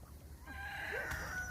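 Chickens cluck softly in a backyard coop on a rainy day, a few faint, short calls over low outdoor background noise.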